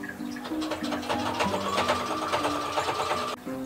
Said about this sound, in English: I'm just gonna fold this, cut a triangle, and then use the sewing machine